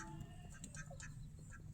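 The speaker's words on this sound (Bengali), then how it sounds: "আমাদের হাঁসগুলো অনেক দিন থেকে দেখাই না আপনাদের" Ducks kept in a backyard poultry shed give soft, scattered quacks over a low, steady background hum, fairly faint and without talk.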